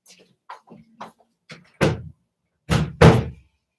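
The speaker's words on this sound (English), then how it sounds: "I think I have to close my office door." An office door in a home workspace is pushed shut, with a few light taps and rattles followed by two loud, close thuds as it closes and latches.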